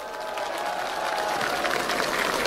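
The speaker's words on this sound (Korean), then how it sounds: "뜨거운 박수 한번 보내주시기 바랍니다." Warm audience applause for party elders at an outdoor Democratic Party campaign rally in Jeonju, a continuous wash of many hands clapping at moderate distance that swells slightly toward the end.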